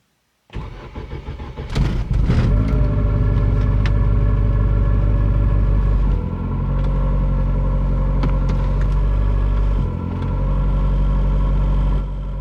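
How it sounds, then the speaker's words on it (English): An Astra VXR car engine cranks and catches, revs briefly, then settles into a steady, rumbling idle up close, with small dips in its drone. "it's idling at the right RPM for the first time in months"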